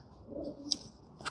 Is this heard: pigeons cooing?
yes